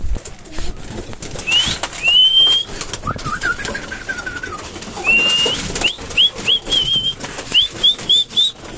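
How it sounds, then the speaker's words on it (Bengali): Pet pigeons in a pigeon house call in short rising whistles and squeaks, repeated in quick bursts over rustling and shuffling as they feed close by. "দেখেন আমার কবুতরগুলো খাবার খাওয়ার জন্য কতটা মরিয়া হয়ে উঠে"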